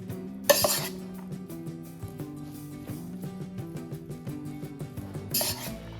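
Tamarind rice (pulihora) mixed by hand in a metal vessel gives soft, steady stirring and rubbing noises, with two bright clinks against the pot near the start and end and no talking.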